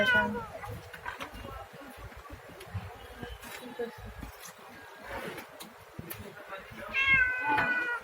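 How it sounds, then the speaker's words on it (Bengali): A cat meows repeatedly up close while waiting to be fed fish, insistent calls that rise and fall, with people talking over and around the meows. "বিড়াল মাছ খাওয়ান দাঁড়া রয়েছে"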